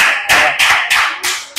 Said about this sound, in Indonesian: Oke, tepuk tangan lu.